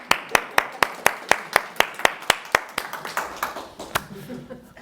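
Applause from a live show audience, heard as sharp individual hand claps in a fast steady rhythm that loosen and fade toward the end, close and fairly loud.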